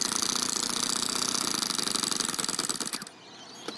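A four-stroke overhead cam engine fitted in an RC car runs steadily with a fast, buzzing rattle, close and loud, then drops off abruptly near the end to a quieter idle.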